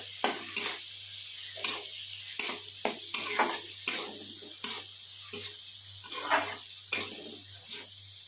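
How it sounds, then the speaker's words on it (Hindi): Ground turmeric, black pepper and cumin powder roasting in a pan over a medium flame, with a steady sizzle broken by a string of sharp, close scrapes of a spoon stirring the spices. "इन सभी मसाले को हम मीडियम फ्लेम पे अच्छे से भूनेंगे।"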